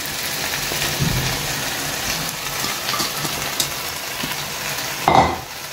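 Cubes of paneer fry in a hot pan with a steady, close crackling sizzle, broken by light scrapes and taps of stirring and a sharper clatter near the end, with no voices.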